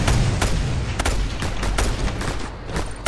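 Dense, rapid gunfire from the video game Just Cause 2, with repeated sharp bursts and heavy booms layered over a constant roar of battle noise, loud and close throughout.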